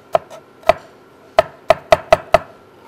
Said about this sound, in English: And while I'm chopping my herbs,